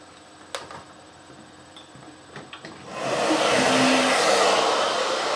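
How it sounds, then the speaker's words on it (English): After a few clicks and taps while being handled, a Rusk Speed Freak hair dryer with a clip-on attachment switches on and blows a loud, steady rushing whoosh that continues to the end. "So I'm just going to plug in my hairdryer, which is by the brand Rusk Speed Freak."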